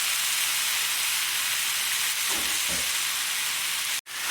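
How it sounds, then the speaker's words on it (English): Loud, continuous sizzling hiss of corned beef searing in a hot pan, steady throughout with a brief cut near the end. "Sizzle, sizzle."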